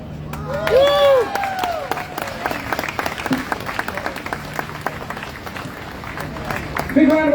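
Loud crowd applause at an outdoor Free Palestine rally in Melbourne, with dense clapping and some cheering, continuing steadily for several seconds.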